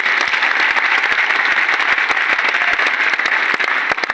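Loud, dense audience applause at a celebration gathering, steady and sustained throughout with no voices over it.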